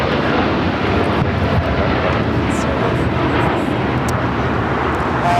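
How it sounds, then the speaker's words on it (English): A United Airlines Boeing 787-9 Dreamliner takes off at LAX with a loud, sustained jet roar that holds steady throughout, and faint voices come and go beneath it. "This is United Airlines 198 taking off to Shanghai on the 787-9 Dreamliner"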